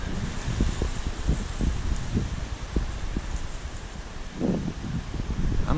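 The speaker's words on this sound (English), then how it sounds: "Now it's starting to rain pretty hard." Rain falls during severe weather outside a home garage, a steady hiss with gusty wind noise and scattered low thumps nearby, with no voices.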